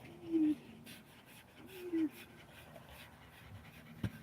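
A dog pants close by in a few quick breathy bursts. A brief rub or scratch can be heard near the end.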